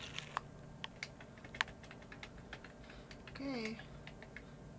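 Fingers tap at a computer keyboard beside a pet cockatiel, giving sparse, soft clicks at an uneven pace; a short spoken word and a brief bird chirp break in near the end.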